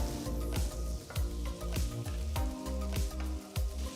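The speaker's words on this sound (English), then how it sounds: "add 1 onion that's been cut into wedges. Next, add 1 capsicum that's been cut into wedges. Saute for a few minutes." Onion and capsicum wedges sauté in a hot pan with a steady, close sizzle, broken by repeated clacks and scrapes of a utensil stirring at a regular pace.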